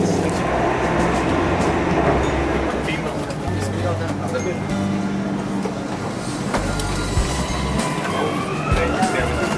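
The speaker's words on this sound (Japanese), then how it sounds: "この電車に乗っていきたいと思います。 結構揺れも少なくて快適ですね。" Inside a Dubai Metro train in motion, a steady low rumble and rolling noise fill the car throughout, with a few faint chimes and a person talking quietly over it.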